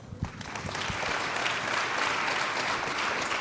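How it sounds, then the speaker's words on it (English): A crowd claps steadily, building quickly from a few scattered claps into full, sustained applause. "a round of applause for Liz"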